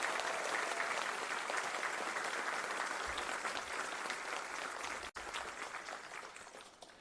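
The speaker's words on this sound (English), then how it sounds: "Please join me in giving these individuals a well-deserved round of applause" An audience at a city council meeting in Greensboro applauds, a dense, continuous wash of clapping from many hands that gradually fades toward the end, with a brief sharp dropout partway.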